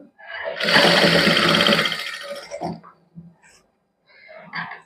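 A sewing machine stitches white lace onto a palazzo, giving one loud, sustained whirring burst of about a second, followed by a few short, softer runs and stops with brief gaps between them.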